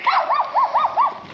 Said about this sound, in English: Big dog, little dog.